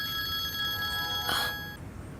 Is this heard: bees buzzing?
no